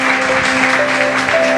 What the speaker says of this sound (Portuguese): Louve a Ele com suas palmas